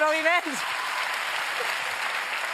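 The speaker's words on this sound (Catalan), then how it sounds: "Aplaudiments!" A voice calls out briefly, then a crowd bursts into sustained applause, steady and full throughout.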